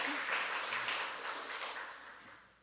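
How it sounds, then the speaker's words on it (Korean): A church congregation breaks into applause during a Sunday worship service, a broad steady wash of clapping that holds for a couple of seconds and then tapers off at the end. "우리 감사하다고 박수 한번 합시다"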